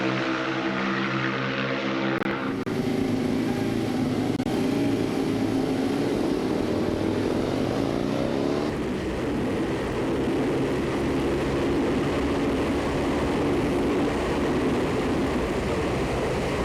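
A Ducati 996 SPS motorcycle engine roars steadily at speed while being ridden, a loud sustained drone that shifts pitch partway through as the revs change, with no talking.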